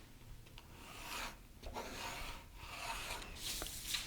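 A pencil or marker scratches along a paper sewing pattern in several short, raspy strokes, drawing a lengthening line near the center back, quiet and close with pauses between passes.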